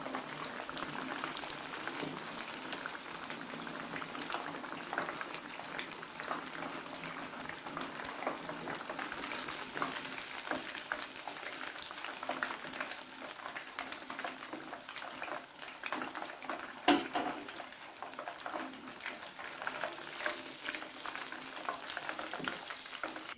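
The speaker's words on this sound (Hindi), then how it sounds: "इसी तरीके से फ्राई करना है ज़्यादा तेज़ गर्म ऑयल में।" Masala fish frying in very hot oil, a continuous dense sizzle and bubbling crackle close by, steady throughout with occasional sharper pops and no speech.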